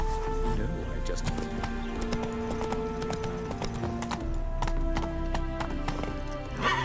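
Hooves of Roach, a horse in The Witcher 3, drum in a fast galloping rhythm, loud and close, with a brief whinny and game music underneath.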